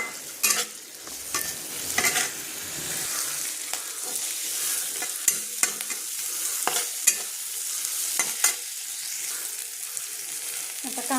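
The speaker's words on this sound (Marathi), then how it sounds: "आता कांदा ना थोडासा असा लाल होऊन देते." Onion frying in oil until it browns, an even hissing sizzle punctuated by repeated brisk scrapes and clacks of a spoon stirring against the pan, nearby and moderately loud.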